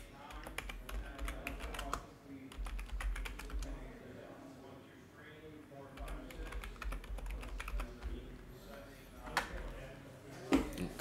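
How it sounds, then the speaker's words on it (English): Rapid clicking keystrokes on a computer keyboard come in quick bursts with short pauses, close and quiet, while someone talks over parts of the typing. "Type that in here."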